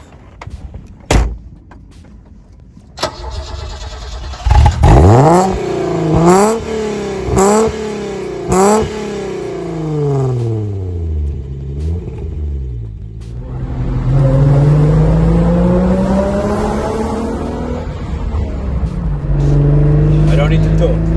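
An Alfa Romeo GTV6 V6 sports car engine starts and revs sharply several times, pitch climbing and falling, then settles into a loud, steady rumble as it pulls away.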